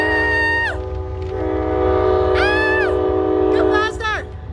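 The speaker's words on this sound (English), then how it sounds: "Obviously that's a train." A train horn blares in loud sustained multi-tone blasts, cutting off and returning in several bursts over a steady rumble of a passing train, with some talk mixed in.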